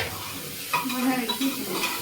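Sizzling of a hot tempering for khichdi in a pan, crackling and spitting after a quiet start, with metal stirring clinks.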